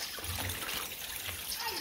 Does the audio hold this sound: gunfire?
no